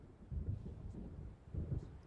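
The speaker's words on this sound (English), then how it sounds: "seems there's a storm coming" In the video game Alan Wake, distant thunder from an approaching storm rolls in soft, low rumbles, two faint swells a second apart, with no voices.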